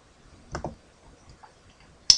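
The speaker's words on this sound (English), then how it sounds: "click run Imgburn" Computer mouse clicking, a couple of crisp close clicks near the start and another sharp click at the end, in an otherwise quiet room.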